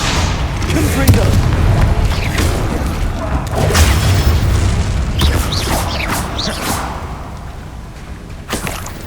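The Confringo fire-blast spell in Hogwarts Legacy, a loud booming magical explosion with whooshing, rumbling spell effects layered over a dense combat din, followed by a few sharper bursts toward the end.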